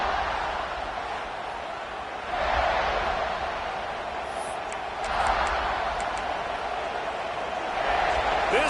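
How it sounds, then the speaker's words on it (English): A college football stadium crowd at a Clemson Tigers game gives off a continuous broad roar that swells louder every few seconds, with voices talking over it. "This crowd bringing the energy and noise early."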